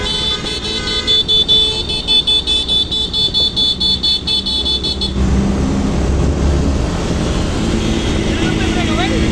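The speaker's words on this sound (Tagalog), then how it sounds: "Kotse." Car passing during a bicycle race at the Tour of Matabungkay, stage 3, 24-to-35 category: a rapid series of rhythmic beeps, then a loud rush of engine and road noise close by, with voices underneath.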